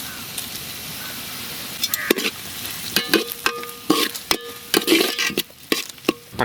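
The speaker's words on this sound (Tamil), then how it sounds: "எண்ணெய் சேர்த்துக்கலாங்க, வெங்காயம் சேர்த்துக்கலாங்க, கருவேப்பிலை சேர்த்துக்கலாங்க" Onions and curry leaves frying in oil in a pot, a steady sizzle broken by sharp, irregular clanks and scrapes of stirring that grow busier toward the end.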